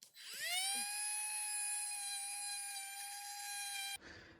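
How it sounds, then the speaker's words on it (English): A Dremel rotary tool spins up and holds a high, steady whine while smoothing a lip on a Kawasaki 650 X2 engine intake part, running loud and close for about four seconds before cutting off. "So I'm just going to take the Dremel and I'm going to kind of smooth up that lip."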